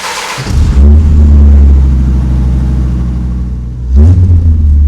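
A Dodge Viper RT/10 with side-exit exhaust and no catalytic converters starts up and settles into a deep, loud, rumbling idle, then blips the throttle into a burst of revving near the end.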